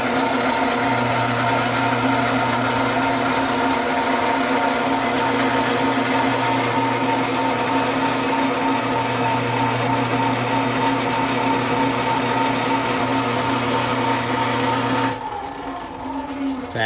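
Steady, loud drill whine biting into metal with a step bit, running continuously for about fifteen seconds before cutting off abruptly, with a faint hum lingering afterward.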